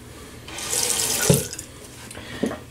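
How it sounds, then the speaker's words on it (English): Water runs from a tap onto a shaving brush, a steady hiss of flow swelling and fading over a few seconds with a couple of small splashes, close and alone. "And let me just wet this brush,"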